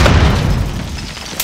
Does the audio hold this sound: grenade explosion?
yes